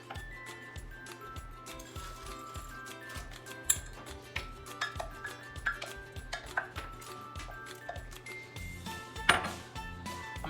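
Vegetables drop into a pot for mac and cheese, with scattered faint clinks, taps and knocks of utensils and cookware repeating irregularly at close range, otherwise quiet.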